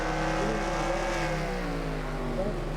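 Race cars in a cup test race at a superdome oval, several engines droning together at high volume with pitches sliding downward as they decelerate, a continuous overlapping roar.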